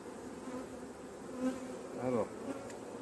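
Honeybees buzz steadily at an open beehive during a colony inspection, a continuous close hum with a couple of louder passes as individual bees fly near.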